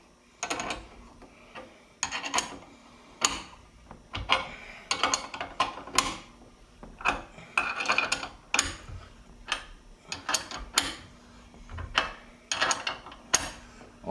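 Bolts being tightened with a 3/4 inch wrench on an armwrestling table setup, giving repeated close, sharp metallic ticks and clicks in short bursts with brief pauses between them.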